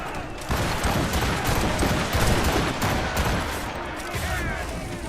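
Rapid gunfire during a ship boarding in the Assassin's Creed Rogue video game, a dense, loud stream of shots and impacts that carries on steadily for several seconds.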